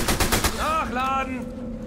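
Rapid bursts of gunfire from a World War II sniper game set in a Nazi base, fast loud shots in the first half-second, followed by harmonic whistling tones and a sustained hum.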